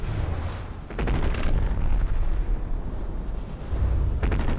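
Heavy naval combat in a battleship game, with torpedo hits striking a battleship: dense, sustained booming explosions layered over a constant low rumble, with sharper bursts near the start and again at the end.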